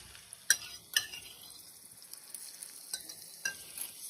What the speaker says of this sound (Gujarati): હવે જે આપણે પેસ્ટ બનાવેલી હતી તે એડ કરવાની છે આની અંદર,